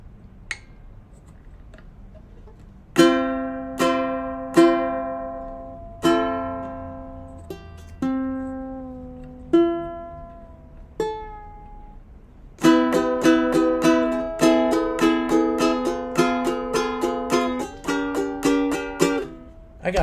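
An out-of-tune ukulele is strummed nearby, alone and without voices. Single chords ring out and decay one after another, then give way to a quicker run of repeated strums.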